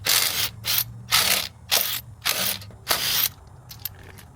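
A car wheel being removed with a ratchet-type tool, six or seven sharp, loud mechanical bursts in a quick, even rhythm, close by, then quiet.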